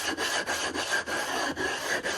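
A sharpening stone is lapped flat on an iron plate with abrasive compound, giving a steady gritty scraping rub in repeated back-and-forth strokes of about half a second each, close and fairly loud with no talk.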